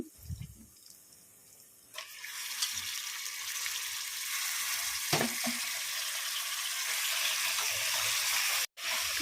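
Mutton pieces frying in oil with ginger garlic paste for a gongura curry, a harsh, steady sizzle that swells after a brief stir at the start and keeps going loud and close, with no talking.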